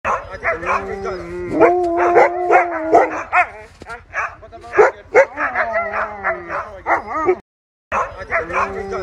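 Sled dogs on a snowy ride bark and yip in rapid, overlapping bursts close by, loud and continuous with a short gap near the end; people's voices mix in among the barks.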